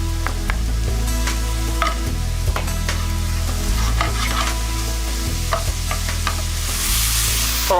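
Four cloves of garlic sizzle steadily in a hot pan while a utensil stirs and scrapes in regular strokes, loud and close with no talking.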